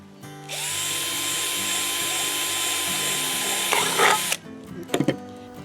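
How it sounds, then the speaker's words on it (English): A power drill bores into a plastic one-gallon milk jug with a steady, whining run of about four seconds close up, then stops, followed by a few light plastic clatters. "So we need to drill holes in this one."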